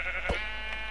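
A sheep in the Minecraft video game gives a single short bleat over a steady background hum of game sound.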